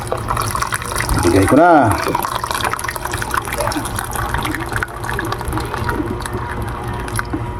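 Hot water is poured into a cooking pot, a close, loud gurgling fill that continues steadily while a person talks throughout.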